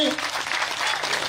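A village gathering honouring guests breaks into dense, continuous applause from a crowd, loud and broadband, with a voice briefly heard at the start.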